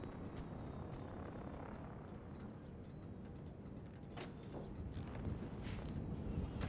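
Helicopter in the game GTA 5, a steady whirring rotor and engine drone holding at a constant level throughout, loud and close with no pauses.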